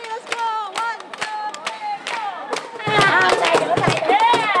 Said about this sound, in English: I told them to clap along and they joined in